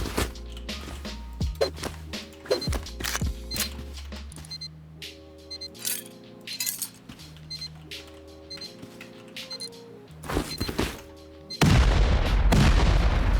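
Gunfire with explosive ammo in the survival video game Rust: a series of sharp, booming shots and impacts at irregular intervals, with clicks and tonal game sounds between them and a loud roar of noise at the end.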